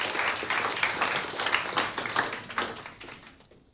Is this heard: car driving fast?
no